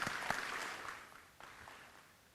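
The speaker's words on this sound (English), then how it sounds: "Let's give them a round of applause, please." Audience applause at a Trinidad and Tobago Indian Arrival celebration stage event, greeting a school's second-place short story winner; moderate clapping with a few sharp peaks early, fading quietly over about two seconds.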